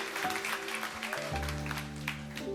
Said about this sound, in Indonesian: Berikan tepuk tangan buat Regina.